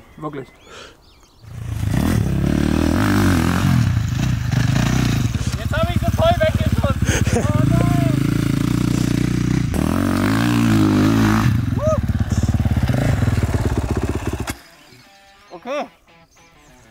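Motocross motorcycle engine revving hard on a sandy track in Spain, a loud sustained roar with rising and falling throttle sweeps for most of the clip before cutting off, with someone talking over it.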